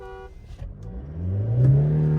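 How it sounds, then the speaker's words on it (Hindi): A Mahindra XUV700 petrol engine revs in neutral with no gear engaged, rising from a short tone into a loud, steady, close roar whose pitch climbs smoothly and then holds at high revs. "मैं रेस दे जा रहा हूँ, गाड़ी रेस पकड़ रही है खाली"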